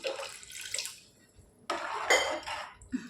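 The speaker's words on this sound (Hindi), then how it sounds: "ये देखिए मैं इतना ही पानी ऐड डाल रही हूँ।" Water pours into a pot of mutton khichda in a home kitchen, a splashing run, a pause, then a second louder pour with light clinks.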